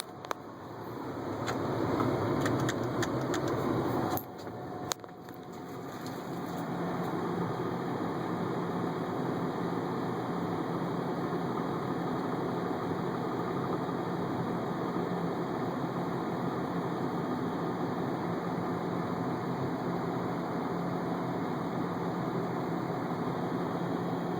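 A warmed-up car engine idles quietly and steadily indoors once the fans are switched off, a low, even hum holding throughout after a few seconds of brief louder knocks and movement at the start.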